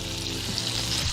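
Steak frying in butter with garlic and fresh rosemary, a continuous dense sizzle and crackle filling the pan, close and loud with no speech.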